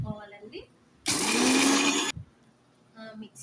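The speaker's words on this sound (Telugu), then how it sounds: "మిక్సీ మెత్తగా పట్టుకున్నామండి" A mixer grinder whirs loudly for about a second as it grinds dried red chillies with garlic cloves, the motor pitch climbing slightly, with brief speech before and after the burst.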